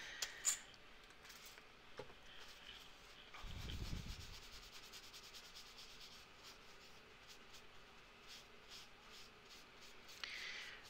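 Rubbing to clean a freshly rolled piece of polymer clay: faint, close, dry scratchy rubbing strokes against a quiet background, with a brief low thump partway through.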